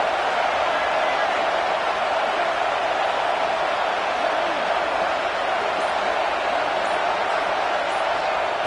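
A home crowd in the college football video game CFB 26 roars steadily as the defense tries to get off the field on third down, a loud, unbroken wall of crowd noise with a commentator talking over it.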